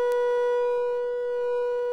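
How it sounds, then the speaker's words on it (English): A Cre8audio Chipz Eurorack pulse oscillator puts out a steady, chopped sine tone with a stack of even overtones, held loud and constant with a slight swell midway and no voices. "We always go back to that chopped up sine wave"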